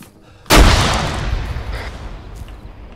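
Grenade thrown into a house bursts in ArmA 3 combat: one sudden, loud, close explosion followed by a long, rumbling decay that fades over a couple of seconds.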